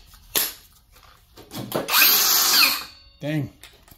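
A cordless power saw running on a Ceenr universal battery made for Dewalt, Milwaukee and Makita tools whirs in short bursts, with one longer loud cut near the middle and someone talking between runs.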